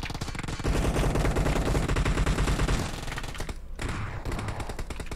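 Rapid bursts of AKM assault rifle fire during a clan-versus-clan battle in a mobile shooter game, loud and continuous for several seconds before a short pause and more shots, with background game sounds.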